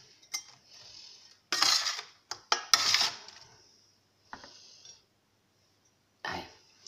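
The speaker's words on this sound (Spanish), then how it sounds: "Y yo le voy a coger con esta espátula las patatas" A spatula scrapes and lifts oven-baked potatoes off a baking tray shared with sausages, giving short, bright metallic scrapes and clinks in separate bursts with quiet gaps between them.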